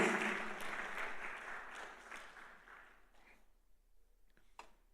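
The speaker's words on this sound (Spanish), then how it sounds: "Den un aplauso fuerte a Jesús." Church congregation applauding during a Spanish-language service, loud crowd clapping at first that fades over a few seconds into near quiet with a few scattered claps.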